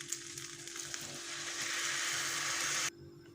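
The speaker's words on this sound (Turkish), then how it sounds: "Şimdi kaynattığım suyu da ekliyorum." Boiled water poured into a hot pot of 200 grams of lightly sautéed corn kernels gives a loud, steady hissing sizzle that builds slightly, then cuts off abruptly near the end, with no talking.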